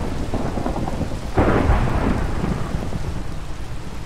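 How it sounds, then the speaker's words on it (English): Thunderstorm in the Minecraft video game: steady heavy rain hiss throughout, with a rumbling thunder crack swelling midway and slowly fading back into the downpour. "that's a scary thunder"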